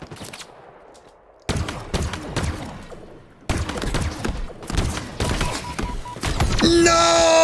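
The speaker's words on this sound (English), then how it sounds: "Oh my god, I'm getting shot again." Gunfire striking a player in the Halo Infinite battle royale mode: rapid bursts of shots and impact thuds in clustered volleys, loud and close, with game sound effects swelling at the end.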